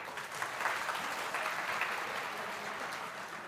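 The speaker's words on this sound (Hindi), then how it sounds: "दरबार में आनंद आ रहा हो तो ताली बजाओ।" An audience at a darbar religious gathering claps briefly in a dense, moderately loud patter, the applause steady with slight swells and no talk over it.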